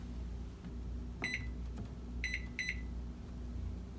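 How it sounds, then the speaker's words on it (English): A microwave oven hums steadily while a few short, high electronic beeps sound, one alone and then two close together. "You want to set your microwave for 3 or 4 minutes."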